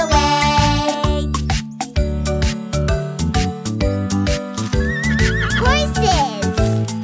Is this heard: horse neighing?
yes